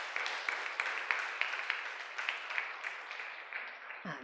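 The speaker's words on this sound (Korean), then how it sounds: "주님께 영광의 박수 올려드리겠습니다." A church congregation claps together in praise at the end of a sermon. The applause is moderately faint and steady, tapers off over a few seconds, and ends with a brief soft thump.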